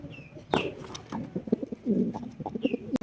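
Soft pigeon coos repeat in low, throaty bursts, with a couple of brief higher chirps mixed in, fairly close and moderately loud.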